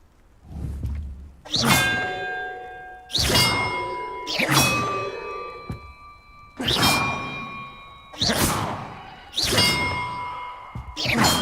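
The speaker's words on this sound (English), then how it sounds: "Perhaps the map contains clues about the order I'm supposed to ring the bells in." Bells struck one after another in a puzzle in Hogwarts Legacy, six loud clanging strikes at roughly even intervals, each ringing out with a long shimmering decay before the next.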